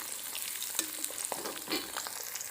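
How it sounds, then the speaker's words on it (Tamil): Onion and garlic sautéing in a pan for an herbal pirandai kuzhambu, a steady close hiss of frying with occasional scrapes and taps of stirring, moderately loud with no voices. "வெங்காயமும் பூண்டும் நல்லா வதங்கிட்டோம்."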